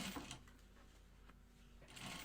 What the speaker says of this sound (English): Now you're stitching on the webbing